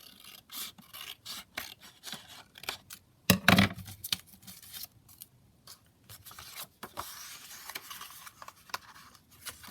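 Scissors trimming paper for a junk journal foldout: a series of close, crisp snipping cuts in irregular bursts, with a louder rustle of paper being handled midway and no talk.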